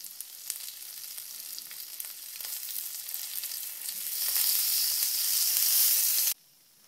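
Garlic butter shrimp sizzle and fry in a pan, a crackling hiss that builds louder over several seconds before cutting off abruptly near the end, with no talking.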